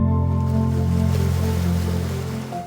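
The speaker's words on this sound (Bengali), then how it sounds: "সেখানে একের পর এক আছড়ে পড়ছে উত্তাল সাগরের ঢেউ" Rough sea waves roll in one after another against the shore of a mangrove island where three river mouths meet at Nidrar Char, Barguna, a loud, sustained wash with a steady low rumble.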